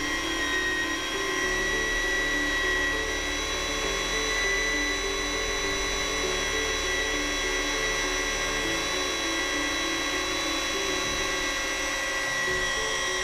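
A power drill with a paddle churns a 20 kg batch of Sikalastic-1 KMY fiber-reinforced flexible waterproofing mortar, a steady, loud motor whine with a constant tone running unbroken throughout.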